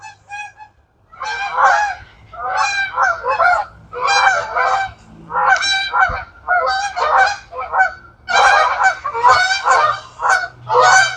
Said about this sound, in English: Anybody want to enjoy the geese landing?